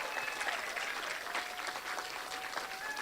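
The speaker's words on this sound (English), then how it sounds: "Please give them another round of the applause." Audience applause at the Harvest Preparatory Academy senior promotion ceremony for the class of 2024, a steady wash of many hands clapping filling the hall, moderately distant, with faint tonal feedback lines underneath.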